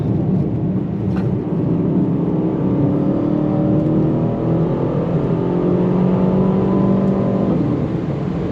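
An Aston Martin DBX 707 SUV in Sport Plus mode accelerating hard, heard from inside as a steady deep engine drone with rising whirring tones climbing through the gears, fairly loud and without talk.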